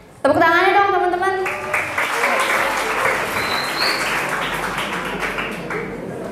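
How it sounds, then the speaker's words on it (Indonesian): An audience at a school media talk applauds loudly and steadily: dense, close clapping from many hands that starts abruptly and keeps going for several seconds, with children's voices briefly heard at the start. "Tepuk tangannya dong teman-teman"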